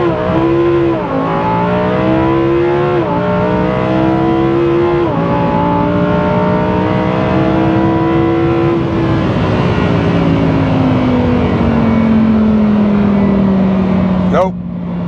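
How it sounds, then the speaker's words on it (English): A Lamborghini launches from low RPM and accelerates hard, engine pitch climbing loudly through several upshifts with brief dips between gears, steady and close for the whole stretch. "I'm gonna try and launch a little lower RPM, so catch it on the upswing, see if we can get a little better traction."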